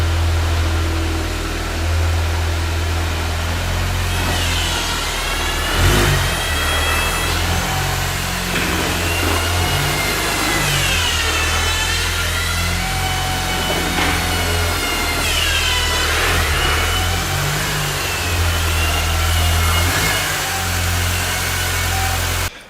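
An R50 Mini One with faults, bought as spares or repairs, runs steadily with a low idle. A few revs rise and fall over it, close and alone without voices.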